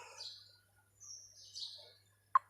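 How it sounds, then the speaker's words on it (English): A small bird, a sparrow, gives a few faint high chirps and short tweets, quiet and somewhat distant, ending with one sharper sudden note; no voices. "S for sparrow."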